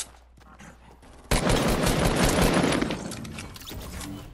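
Dense burst of gunfire from the Fortnite video game, starting suddenly after a quieter stretch and continuing loudly with rapid repeated shots and impacts until the end.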